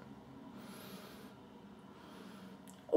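A person takes a short sniff of a tub of citrus-scented shaving soap from a UK maker, two soft drawn breaths through the nose close to the microphone, followed by a louder bump at the end.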